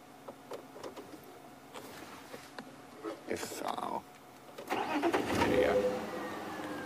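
A safari vehicle's engine turns over and then runs at a steady mid-pitched idle in the bush, fairly close, with people talking quietly over it.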